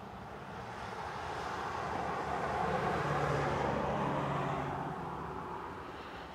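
An airliner arriving from Brussels flies in toward Manchester Airport, its engine roar rising from a distant rumble to a broad, loud peak overhead before slowly fading, with no voices.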